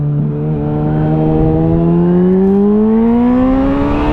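A Suzuki B-King 1340 naked motorcycle accelerates hard, its engine note climbing steadily in pitch with strong harmonics, loud and close over a constant wind rush.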